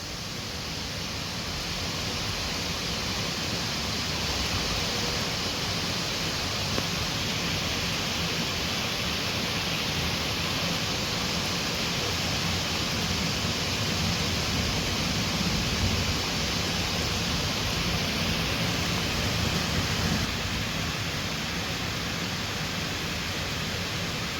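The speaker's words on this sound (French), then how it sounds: "Oh il pleut à mort là." Heavy rain from a thunderstorm at sunset pours down in a dense, steady roar that holds constant throughout, with no talking and no distinct thunderclaps standing out.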